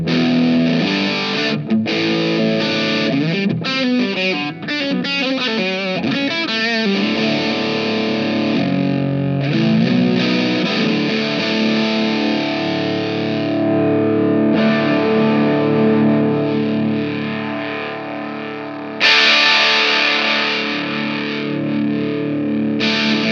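Electric guitar through a Movall Jumpspace Overdrive pedal with the tone knob turned down, played as loud continuous distorted riffs and sustained chords with a thick, saturated sound and a noise gate, no voices.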